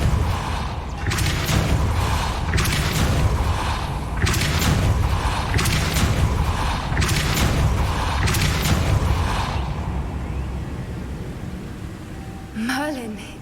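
A Depulso spell cast in Hogwarts Legacy brings a run of heavy, rhythmic booming thuds with mechanical rumble for several seconds. The sound then fades, ending with a short rising whoosh.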